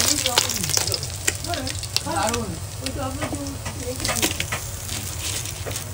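Fish fry in hot oil at an outdoor picnic, a steady crackling sizzle with bursts of spatter while voices talk over the cooking.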